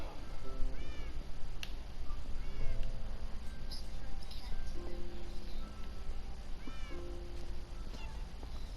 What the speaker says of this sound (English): there's the cat room with a bunch of cats and some things for them to play on